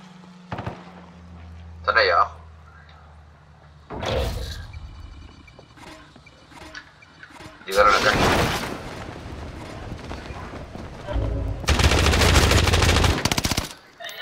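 Bursts of automatic and single-shot gunfire ring out in a Call of Duty: Warzone match on the Caldera map, loud cracks and longer volleys separated by quieter pauses, with Spanish-speaking players talking over parts of it.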